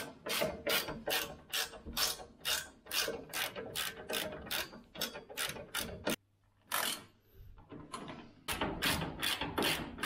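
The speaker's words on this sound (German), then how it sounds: "Und jetzt schraubt ihr einfach wieder die vier Muttern fest" A hand ratchet clicks in rapid repeated bursts while tightening four nuts on an MMG Motorsport bash bar fitted to a BMW E36 coupe, loud and close, with a short pause midway before the cranking resumes.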